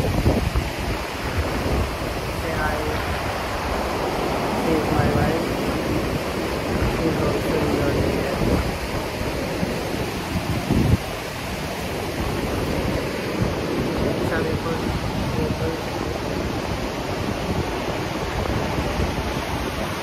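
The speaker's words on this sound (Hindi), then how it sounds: "जल बहता हुआ।" Clear, transparent water of a Himalayan mountain stream near Rampur Bushahr, Himachal Pradesh, rushing steadily as a broad, continuous wash close by, with gusts of wind buffeting the microphone throughout.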